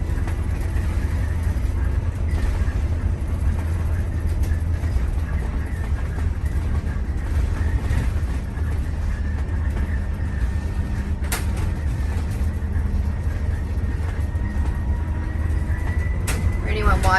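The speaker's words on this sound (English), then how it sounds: "as we drop below a designated speed, the noise emitters sound like a lonesome train whistle to alert passengers that the bus is on its way to make a stop" A Jouley electric bus slowing below a set speed sounds its low-speed noise emitter, a faint, drawn-out train-whistle-like tone riding over a loud, continuous rolling rumble of the moving vehicle.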